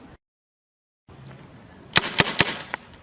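Paintball gun firing a quick volley of three sharp pops, then a fourth shot slightly later, over an outdoor background hiss after a brief dropout.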